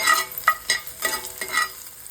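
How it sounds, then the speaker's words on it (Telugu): Dried red chillies, onion, seasoning seeds and curry leaves tempering in hot oil, a crisp sizzle broken by several quick stirring scrapes in an irregular rhythm. "ఎండుమిరపకాయ, ఉల్లిపాయ వేసి తాలింపు పెట్టాను."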